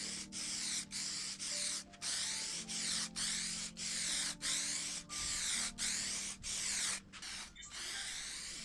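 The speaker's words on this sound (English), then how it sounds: "I like adding this varnish spray-on lacquer piece" Spray-on varnish lacquer is applied to a 1950s mid-century drop-leaf wooden table in about a dozen evenly spaced hissing bursts, each separated by a brief pause, close and steady.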